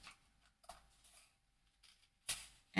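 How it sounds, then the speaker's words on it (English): Scissors snipping paper while making a notebook journal, a few short, crisp cuts spaced irregularly, with a louder sharp snip near the end, close and quiet with no talking. "And then just use your scissors"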